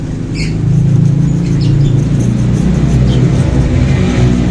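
A close mechanical whirring and rattling hum, steady and loud, of the torque driver pulley of a Euro Griffin 180i scooter spinning continuously.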